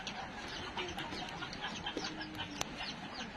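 Chickens cluck softly in a quiet outdoor setting, with scattered short calls and a light background hiss.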